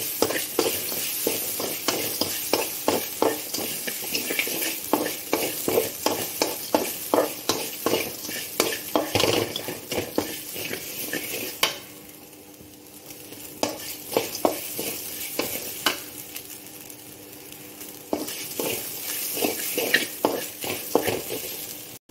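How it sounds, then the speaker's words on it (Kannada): Grated coconut fries in a pan for a vermicelli and coconut milk dish, with steady rhythmic stirring and scraping over a continuous sizzle. The stirring briefly softens midway before resuming, close and fairly loud, with no talking. "ಈಗ ತೆಂಗಿನ ತುರಿ ಹಾಕ್ಕೊಳ್ವಾ. ಇದು ಸ್ವಲ್ಪ ಫ್ರೈ ಆಗಲಿ."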